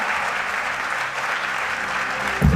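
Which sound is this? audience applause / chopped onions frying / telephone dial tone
audience applause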